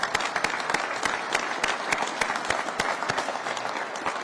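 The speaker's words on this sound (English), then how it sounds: "How about a round of applause for them?" A modest crowd applauds the U.S. senator, congressman and lieutenant governor at a Worcester regional food hub funding announcement, with distinct, fairly loose claps that hold steady throughout.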